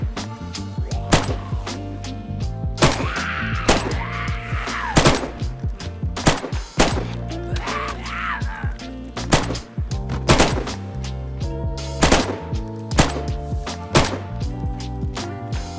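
Gun in the video game DayZ fired in short bursts, loud sharp cracks coming in quick clusters with brief pauses between, repeating throughout over background music.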